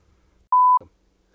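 A single steady electronic tone of about a quarter second, a failed-call beep from a phone with bad service, sounds alone against near silence, followed by a faint short thump.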